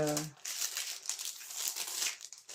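Crinkling plastic or paper wrapping on a gift package being opened, a steady close rustle lasting throughout, with a brief voice at the very start.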